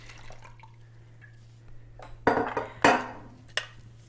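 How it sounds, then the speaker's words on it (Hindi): Water is poured into a cooking pot of thin lentils for langar-style dal. A faint trickle is followed by several sharp splashing bursts with metallic pot clatter, close by in a quiet kitchen. "साथ ही इसमें डाल दीजिए ये पानी"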